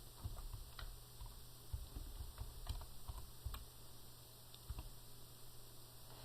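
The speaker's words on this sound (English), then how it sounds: "I'm going to type in a new vendor." Quiet, steady typing on a computer keyboard, with soft irregular key clicks arriving in small bursts and pauses against a faint background hum, no one talking.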